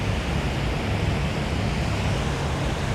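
Andaman Sea surf rolling onto Patong Beach in Phuket on a late afternoon, a steady broad wash of waves mixed with wind, no voices.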